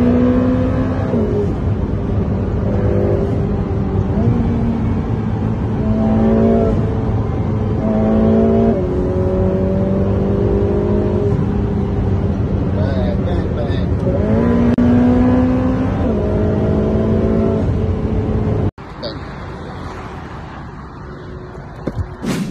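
A fast sports car on a test drive in Berlin revs and accelerates through several rising gear pulls, loud and close, before the engine note drops away and a quieter interior-like section follows near the end.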